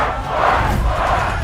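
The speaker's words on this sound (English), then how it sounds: "The crowd erupts." A large crowd roaring and shouting together in a dense, sustained swell of voices, loud and continuous with no single speaker standing out.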